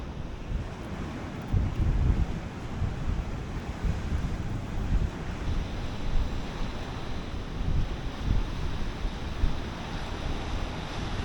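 Strong cold wind roars steadily over a rough, choppy sea while fishing, with a continuous broadband rush and surging waves swelling and easing, no voices present.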